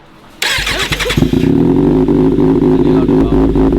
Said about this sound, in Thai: จะมาให้ฟังเสียงท่อ SC Project นะครับ